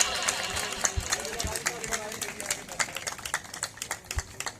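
Scattered, uneven hand claps from an audience at an Abbasia Youth League oath-taking ceremony in Bahawalnagar, sharp individual claps popping irregularly over a low murmur of crowd noise.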